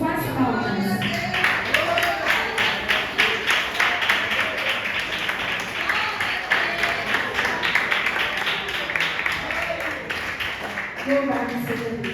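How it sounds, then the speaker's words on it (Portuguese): A church congregation claps in praise during an evening service, with rhythmic, fairly steady clapping running throughout at moderate volume and voices and singing mixed in underneath. "Pode se assentar e exaltar o nome do Senhor Jesus com as palmas."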